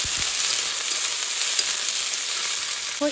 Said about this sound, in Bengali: এবার দেখো তেলটা যেহেতু গরম হয়ে গেছে, এখন দিয়ে দেবো পেঁয়াজ।